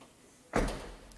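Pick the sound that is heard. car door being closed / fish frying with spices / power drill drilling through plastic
car door being closed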